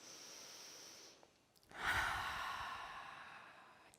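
A single deep breath, drawn in and then released as a long, audible sigh, close and fairly quiet, following a brief pause in a calm guided intimacy session.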